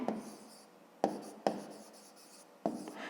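A pen or marker scratches out a math expression on a surface, making brisk stroke sounds with sharp onsets at about four points. It is close and quiet, with no talking.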